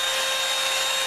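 A Revlon One Step blow dryer and styler running on its cool setting, a steady, loud, unbroken whoosh of air close by with no talk over it.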